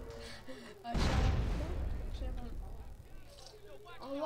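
A sudden loud blast in GTA San Andreas bursts out and rumbles away over a couple of seconds, with game sounds and a voice around it.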